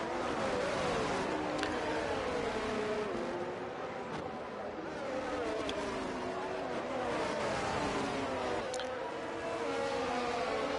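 Race cars roar around the Singapore street circuit in a racing video game, several engines whining and droning continuously with rising and falling pitch as they accelerate and shift, loud and close.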